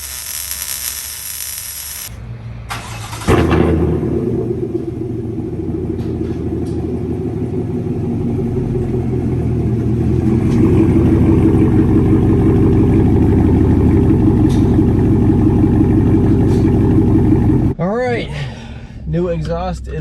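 A car engine with a new exhaust rumbles steadily at idle, loud and close, growing slightly heavier midway before cutting off, with brief voices at the end.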